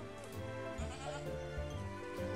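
A native goat bleats in long wavering calls, loud and close, one steady cry running into the next with no talk over it.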